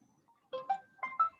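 A telephone ringtone plays a short run of clear, melodic electronic notes during an online meeting, rising in brief pulses against near silence, with no talking.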